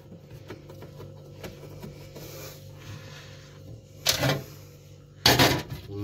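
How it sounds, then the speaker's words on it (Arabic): Screws being fastened while installing a damper part inside a refrigerator, heard as two short, scraping bursts of fastening noise over a steady low hum, with no talking. "نربط المسامير كويس."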